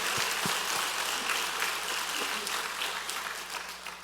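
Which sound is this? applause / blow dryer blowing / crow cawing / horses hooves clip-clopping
applause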